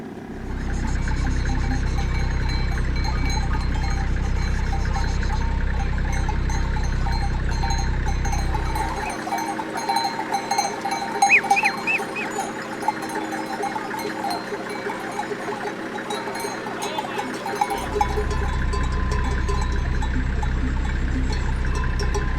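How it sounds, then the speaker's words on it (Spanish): A flock of about 200 sheep and goats blocking a road in Albania, with bleats and clanking bells over a steady engine rumble that drops away midway and then returns. "toda la carretera estaba bloqueada por al menos 200 ovejas y cabras"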